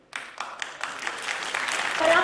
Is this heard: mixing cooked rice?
no